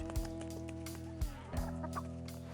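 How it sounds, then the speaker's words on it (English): A few soft clucks from chickens, three or four brief calls spread out over a steady low engine-like hum, quiet and somewhat distant. "I'll just come out here and watch the chickens."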